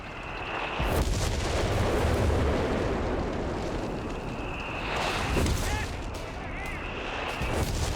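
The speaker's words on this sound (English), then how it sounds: "Counter barrage from the Vesper." Artillery counter barrage in Company of Heroes 3, a 2v2 match: heavy booming shell impacts roll one after another, loud and dense, with rumbling blasts and crackling debris, under excited game commentary.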